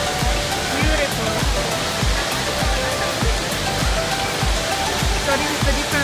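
Indoor waterfall at Jewel Changi Airport, the world's tallest, roaring as a steady broadband wash of falling water with rhythmic low thuds throughout, loud and continuous in a large enclosed space.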